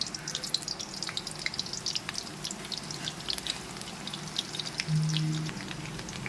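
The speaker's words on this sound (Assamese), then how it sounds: "তেলখিনি গৰম হৈ গৈছে আৰু পিঁয়াজ দি দিওঁ।" Onions drop into hot oil in a home kitchen pan, giving a soft, steady sizzle with scattered crackles and pops, close and fairly quiet, with no one talking.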